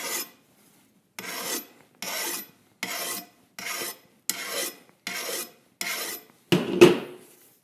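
The fine side of a flat file rasps across a chainsaw chain on a Jonsered 625 chainsaw in about nine even, close strokes with short pauses between them, the last stroke harsher and louder.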